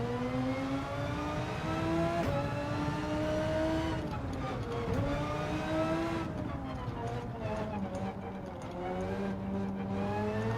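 A race car, an R8, accelerates around Mount Panorama in a racing video game, its engine note climbing in pitch and then dropping at each gear change, loud and continuous throughout.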